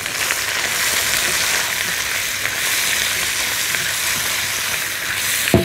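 Ground spices such as cumin and nutmeg sizzling and being stirred in a hot pan, a loud continuous crackling fry close to the microphone with occasional scraping accents throughout.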